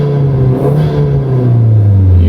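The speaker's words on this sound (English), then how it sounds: "You give it some revs." A Mk1 Audi TT engine revs up close, a loud, continuous rising growl that holds steady for a couple of seconds, with no talking over it.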